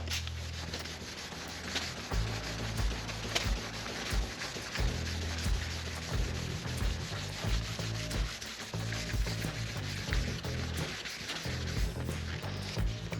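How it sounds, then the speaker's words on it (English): Steady, continuous abrasive rubbing of sanding on car paint during paint correction, an even, close, machine-like scrubbing that runs the whole time without talk. "And we'll go ahead and get this sanded out."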